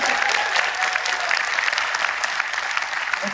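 Audience at an RCM gathering in Noida applauding, a dense, steady wash of clapping filling the hall for several seconds without a break.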